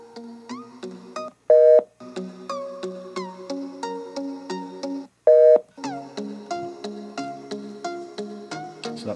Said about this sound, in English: that sound there is telling us that it's already at the maximum loudness for the volume